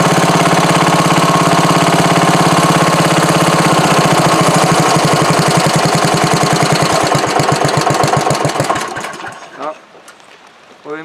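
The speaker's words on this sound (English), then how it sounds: "Well, we might have a decently running engine, it seems like." A Craftsman DYT4000 hydrostatic lawn tractor engine, suspected of a bad carburetor jet, runs loudly and steadily with a rough, knocking mid-pitched drone, then slows into distinct chugging pulses and dies away near the end.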